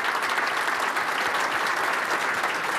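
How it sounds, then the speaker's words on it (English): An audience at a live event in Boston applauds steadily throughout, a dense, even wash of clapping that stays loud and close from start to finish. "I think you should applaud that for the team."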